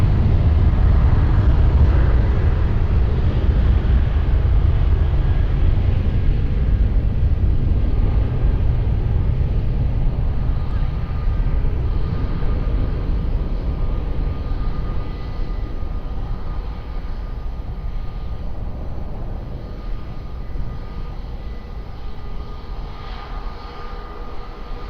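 A jet airliner takes off from runway 20 at Lisbon Airport, its engines a loud, steady low roar and rumble that slowly fades as the aircraft moves away, with no talking.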